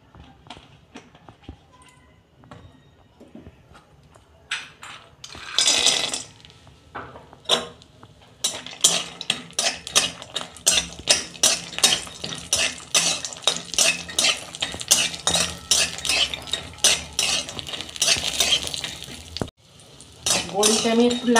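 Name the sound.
frying lentil bori in hot oil in a wok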